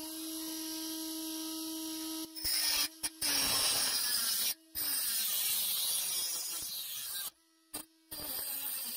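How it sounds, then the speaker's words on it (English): A micro Dremel with a diamond cutting disc cuts a broken clock clickspring, giving a steady high whine with hum and rasping grind. It is interrupted by several abrupt silences where the tool stops and restarts, and the pitch sags under load. "I'm using like a micro Dremel with a diamond cutting disc"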